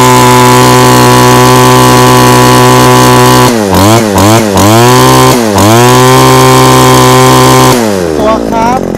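A used Robin brush cutter engine runs at high revs, a loud, close, buzzing two-stroke whine. Several quick throttle blips dip and surge the pitch midway, and the engine then settles toward idle at the end.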